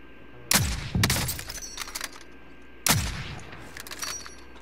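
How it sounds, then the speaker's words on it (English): Sniper rifle shots crack out in Call of Duty: Modern Warfare. Two loud, close booms with echoing tails sound about two seconds apart, and a smaller crack and clatter come between them. "Damn, I sniped a guy."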